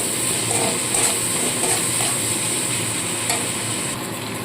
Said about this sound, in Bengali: এবার ভালো করে পেঁয়াজ আর টমেটোটাকে সামান্য ভেজে নিতে হবে